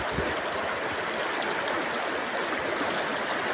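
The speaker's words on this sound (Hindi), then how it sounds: "नर्मदे यहाँ पे जल बहुत ही ज़्यादा तेज़ है।" The Narmada river runs fast, a dense, steady rushing roar of water heard close and continuous, with no pauses or breaks.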